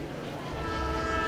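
A passenger train runs with a steady low rumble and rolling mechanical noise throughout, close and continuous, with no talk.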